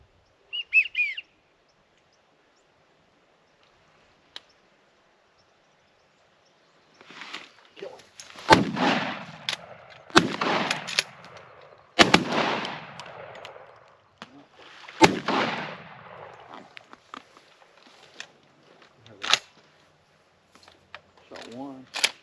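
Several 28 gauge shotgun blasts from 3-inch bismuth loads ring out outdoors on a Texas hunt, sharp reports spaced a couple of seconds apart, with a bird calling briefly at the start and rustling between shots.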